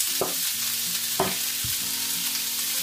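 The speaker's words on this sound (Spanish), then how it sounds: "Funda la mantequilla y poco más." Butter and oil melt and sizzle in a frying pan for a fish meunière sauce, a close, steady hiss with a few soft knocks of stirring and no talk.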